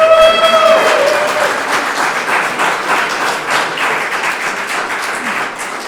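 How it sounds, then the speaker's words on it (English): Audience applause at a labor union talk, a sustained wash of many hands clapping that starts loud and gradually thins out, with a brief voice at the start. "clap it up for that"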